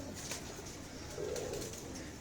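Low, soft pigeon cooing from a fancier's loft at Bakkar Mandi, one swelling coo rising midway through, set against constant background noise with no talking.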